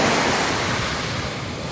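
Sea waves washing ashore at Karedu village on the Bay of Bengal, a steady loud roar of surf with wind noise, continuous and close with no voices.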